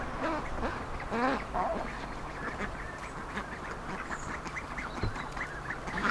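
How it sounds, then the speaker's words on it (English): Seven ducks on a frosty suburban allotment give scattered quacks over a soft outdoor hiss, with a clearer burst of calls early on and fainter ones after. "We've 7 new ducks on the allotment"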